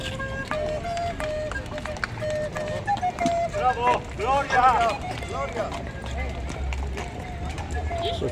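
Horses clip-clop along Floriańska street during a 3 May holiday procession, with rhythmic hoof knocks mixed into busy street noise while people talk nearby.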